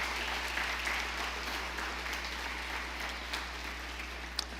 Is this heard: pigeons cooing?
no